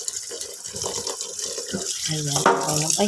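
Cooked pasta is rinsed under a running kitchen tap for carbonara, a steady wash of water splashing over noodles in a sink, with someone talking over it.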